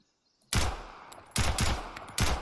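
Four sharp, loud gunshots in Road to Vostok, first a single shot, then two close together, then one more, with short silences between.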